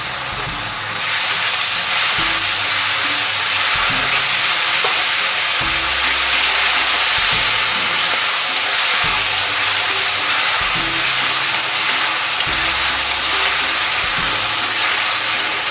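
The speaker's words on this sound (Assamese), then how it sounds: "বিলাহীখিনি খুব ভালকৈ ভাজি ল'ব লাগিব যেতিয়ালৈকে ই তেলখিনি নেৰে তেতিয়ালৈকে" Tomato paste frying in oil for a spicy chicken curry, a loud continuous hiss and sizzle with a steady, steamy texture and periodic low scraping thuds from stirring, no one speaking.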